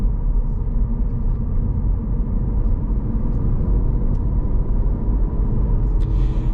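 Deep continuous rumble of a 2024 Cadillac CT4 V-Blackwing six-speed being driven through a mild corner at speed, steady engine and road drone with a few faint clicks near the end.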